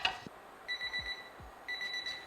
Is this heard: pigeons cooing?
no